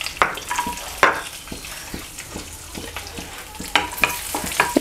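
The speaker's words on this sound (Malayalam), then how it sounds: "അണ്ടിപ്പരിപ്പ് ഇട്ടിട്ട് ഒന്ന് റോസ്റ്റ് ചെയ്തെടുക്കാം" Cashew nuts roasting in ghee in a pan for tharivunda, giving a soft sizzle with repeated sharp stirring scrapes against the pan, close and fairly steady.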